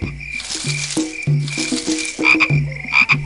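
Cartoonish frog croaks from a game, a series of short throaty ribbits in quick succession over a soft musical backing, clear and close.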